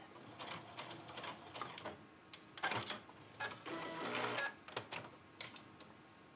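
A sewing machine stitches a zipper pouch in quick bursts of rapid mechanical clatter, stopping and starting several times at close range with no talk.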